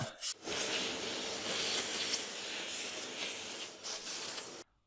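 A router cuts a recessed handle into an MDF panel, giving a loud, continuous, rough grinding rasp that holds for about four seconds and then stops abruptly.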